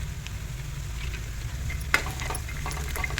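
Onions and peanuts fry steadily in a pan for a white upma, a constant soft sizzle under a low hum, with one sharp clink of a stirring utensil near the middle and light scraping after it.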